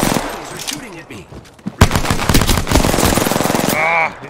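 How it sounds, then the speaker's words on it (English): Hostile gunfire in a video game: loud, close bursts of rapid automatic shots, with a brief pause and then sustained fire, mixed with a voice talking and game effects. "Contact with hostile. They're shooting at me."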